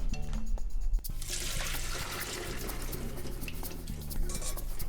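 Cooked food is drained from a kitchen pot into a strainer. A hissing rush of pouring water and liquid sloshes against metal over a constant low hum, and nobody talks.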